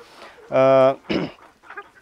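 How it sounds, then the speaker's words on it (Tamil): A rooster on a poultry farm gives a loud, harmonic crow-like call nearby, followed by shorter squawks from other fowl, as someone talks over the birds. "எங்கக்கிட்ட இருக்கிற சேவல்கள் வந்து பார்த்திங்கன்னா வந்து தரமான சேவல்களாகவும் நாங்கள் எங்கள் பண்ணைக்கு மெயின்டைன் பண்ணுறதுக்காக"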